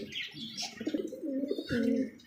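A pair of pigeons coos in low, rolling phrases at close range, with a brief flutter and soft chirps from other birds in the background and no voices.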